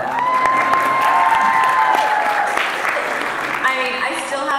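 An audience at a fan convention panel with a voice actress claps and cheers loudly and continuously, with shouts and whoops riding over the dense clapping near the stage.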